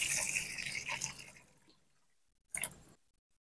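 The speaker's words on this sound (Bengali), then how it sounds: "এখন এই পার ভিতরে ঢেলে দিলাম।" Hot water poured from a pot over raw chicken feet in a kitchen bowl, a splashy watery pour for about a second and a half that fades out, then a brief sharp splash or clatter after a pause.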